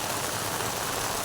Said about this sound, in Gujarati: પણ વરસાદ જ થાકતો નથી.